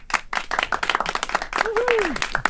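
A small group claps at close range, the irregular claps mixed with overlapping talk and a brief whoop.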